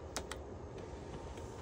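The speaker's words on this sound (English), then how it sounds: "Addison, hit P on the keyboard" A few isolated keystrokes click faintly on a computer keyboard, set against a constant low room hiss.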